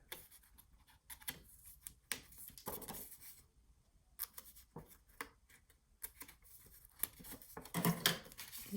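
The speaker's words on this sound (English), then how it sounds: "I'm just gonna cut out those two little squares at the end." Scissors snip out small squares of paper at close range, with short crisp cuts that come in uneven bursts and are separated by brief quiet gaps.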